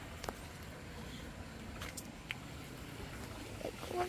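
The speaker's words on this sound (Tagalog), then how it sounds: "Motor." A motor runs steadily throughout, giving a constant, even drone with a few faint clicks and ticks over it.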